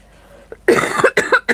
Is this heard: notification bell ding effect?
no